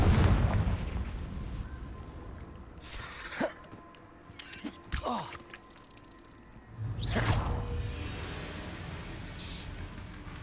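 Fire-blast spell explosions from Hogwarts Legacy, cast as Confringo, burst loudly with whooshing rushes and crackling debris. Several distinct booms are spaced a few seconds apart over a rumbling background, with no talking.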